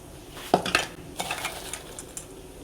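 A spoon clinks and scrapes against a bowl while a lentil fritter batter is beaten, in short uneven strokes with no talking.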